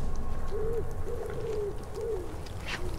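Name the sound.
bird calls in the video game Shelter 2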